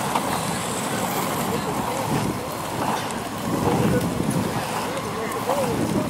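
Wind buffets the microphone in a continuous, gusting rush along an embankment at Neskuchny Garden in Moscow, with a bit of lapping water in the background.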